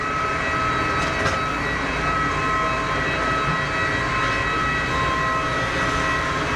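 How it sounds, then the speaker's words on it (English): A Gulfstream business jet lands at Geneva Airport with bucket thrust reversers deployed, a loud, steady engine roar with tonal whine running throughout, no speech. "And some bucket reverser action."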